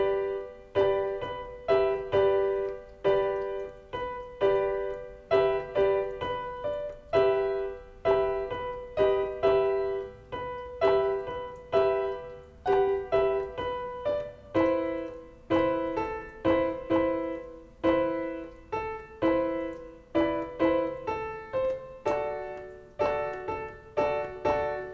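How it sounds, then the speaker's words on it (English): Slow piano rendition of a song, steady chords and a repeating melody struck note by note at an unhurried even pace for about twenty-five seconds, with no talking over it. "all together here, it's going to sound something like this"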